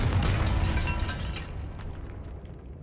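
Confringo fire spell exploding in Hogwarts Legacy, a sharp burst with a booming, crackling blast up front that trails off into a fading rumble and debris patter.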